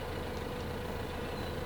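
Small rented tractor engine idles in a farming video game, a steady low mechanical hum at moderate volume with no change in pace.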